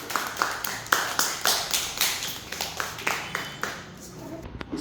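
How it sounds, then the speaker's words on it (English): Children clap their hands together in a classroom shapes activity, a run of a dozen or so fairly even, moderately loud claps that fade toward the end, with some voices in the background. "Clap hands, everyone."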